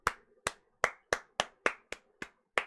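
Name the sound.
player characters clapping in a video game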